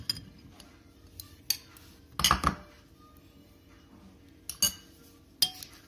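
Sparse clinks and scrapes of a utensil against a bowl while paneer Manchurian batter is mixed, a few sharp knocks standing out over quiet background, close and fairly soft.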